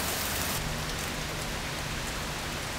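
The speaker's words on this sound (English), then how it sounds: "it's definitely raining" Rain falling outdoors beside a barn during the cleanup of a barn-find Datsun 280Z, a dense, even hiss of drops pattering on surfaces, close and constant throughout.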